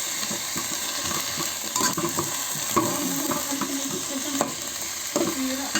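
Mixed vegetables stir-fry in a pan with oyster sauce, giving a continuous sizzle with scraping stir strokes and occasional soft clunks, close and even, without voices.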